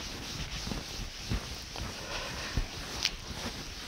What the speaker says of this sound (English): Wiping off a little bit easier